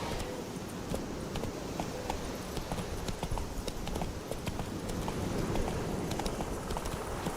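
Roach the horse gallops in The Witcher 3, with steady rapid hoofbeats clattering throughout over a dense in-game ambience.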